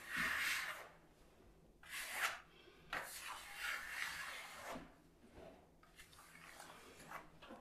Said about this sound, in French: je vais le faire encore un coup avec la lame de 25